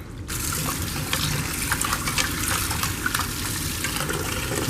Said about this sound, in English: the next step after we have the meat all cubed up is we rinse it